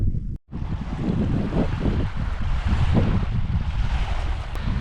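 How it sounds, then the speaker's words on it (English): Wind gusting steadily over open sea in the Bohuslän archipelago, a continuous blustery rush buffeting the microphone, with a brief drop near the start and otherwise constant strength, no voices. "It's a little bit windy out here"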